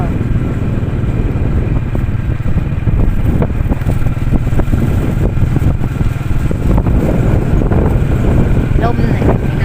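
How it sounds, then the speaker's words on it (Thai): Strong wind buffets the microphone on the banks of the Mekong, producing a steady, loud low roar that rumbles without pause throughout. "ลมเลยพี่น้อง"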